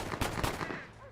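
Two quick gunshots from the Red Dead Redemption video game, sharp close bangs about a quarter second apart, followed by a fading reverberant tail with no voice over them.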